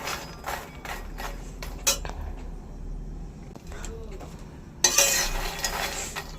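Makhana (fox nuts) stirred dry in a wok over low heat, light scraping and rattling of the spatula in soft bursts, with a louder clattering stretch near the end, close and unaccompanied by talk.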